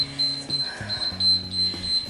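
Workout timer alarm beeps steadily through a gym session, a repeating high electronic tone pulsing in short bursts over a low droning background.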